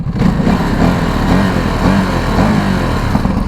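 A Ducati Desert X Rally motorcycle rides off with a loud, close engine that holds a steady low rumble and rises and falls slightly as the throttle shifts.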